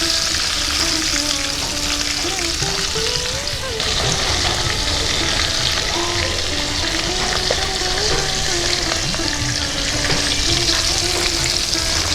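Pomfret fish coated in sattu fries in plenty of oil with a dense, close, continuous sizzle, while a voice talks softly over it.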